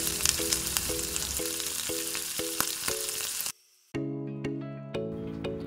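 Chicken sizzles in butter in a nonstick pan, a steady crackling hiss mixed in with background music that briefly cuts out.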